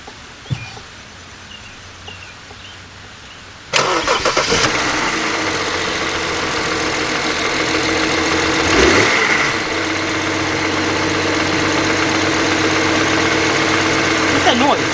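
A 2009 BMW X engine cranks and fires abruptly after a quiet stretch, then settles into a loud, steady idle close by, with a brief dip midway and a faint voice early on.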